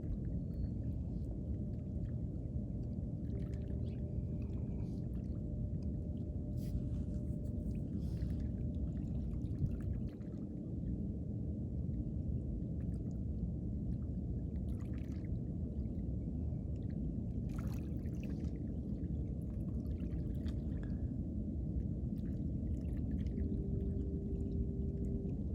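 A strong water current flows in a steady, low, rushing roar that continues unbroken, with faint scattered splashes and knocks over the top.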